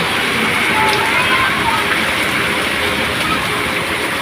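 Heavy rain pours down during a flood, a loud, dense, continuous hiss of water with slosh-like texture filling the whole moment.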